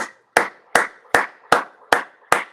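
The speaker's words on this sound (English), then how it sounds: "I felt like clapping for you" Six or seven hand claps, evenly spaced and sharp, close and fairly loud, standing alone in quiet.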